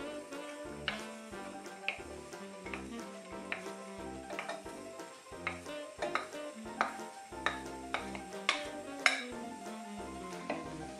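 Onions and celery sautéing slowly over low heat in a pan for cream of celery soup, a soft steady sizzle with repeated spoon scrapes and stirring clicks throughout, close and moderately quiet, no talking.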